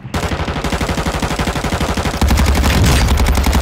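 Rapid bursts of sniper and automatic gunfire in the Call of Duty Warzone 2 video game on Ashika Island, a steady stream of loud close shots that intensifies into heavier, denser firing near the end.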